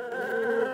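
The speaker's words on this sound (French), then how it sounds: "Je suis l'abeille." A bee buzzes in one steady, close drone with a slightly wavering pitch, heard alone for under a second.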